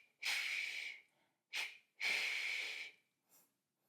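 Forceful breaths during a pilates exercise: two long, airy exhales with a short sharp one between them, close and clear, then a faint trailing breath.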